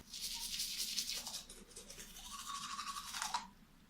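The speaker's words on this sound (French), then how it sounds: "Est-ce que vous voulez que je vous montre ce que ça donne en plein brossage, dans ma bouche et tout, avec la brosse, le dentifrice et tout?" Scrubbing of a toothbrush in the mouth with homemade natural toothpaste: rapid, close, bristly strokes in uneven bursts for about three seconds, quiet and with no talk.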